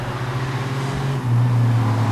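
Short track race cars come around on the final lap at a super short track race, a loud engine drone that swells as the cars pass close by.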